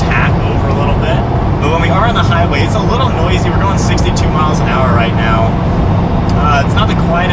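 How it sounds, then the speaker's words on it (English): Cabin of a Lamborghini Huracan cruising on a highway at 62 mph, with a steady loud low roar of engine, tires and wind filling the space while a person talks over it throughout. "when we are on the highway, it's a little noisy. We're going 62 miles an hour right now"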